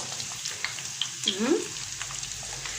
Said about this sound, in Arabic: والوقت هقول بسم الله كده وهنزل بالبصل